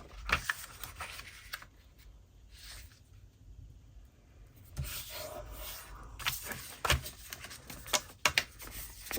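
Paper pages being folded into a tiny memory-keeper journal, soft rustling and rubbing creases with sharper crinkles and taps, close and quiet with no talk.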